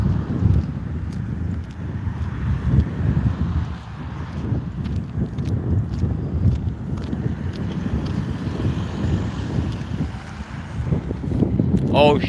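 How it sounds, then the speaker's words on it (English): Outdoors on a summer day, gusts of wind buffet the microphone, making a continuous rumbling, thumping roar that swells and dips throughout with no clear voices. "Oh shit, now it's windy."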